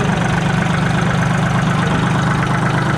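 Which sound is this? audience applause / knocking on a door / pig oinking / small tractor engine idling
small tractor engine idling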